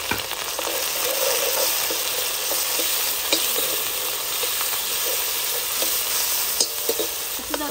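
Tomato and green chilli sautéing in a hot tempering pan for dal, a continuous loud sizzle with scattered spatula scrapes and stirring clicks throughout, no voices.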